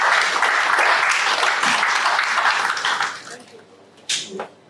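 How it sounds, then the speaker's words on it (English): Audience applause at a seminar on Nigerian labour force statistics welcoming a professor, full for about three seconds and then tapering off, with a brief voice or bump near the end. "Please, a round of applause."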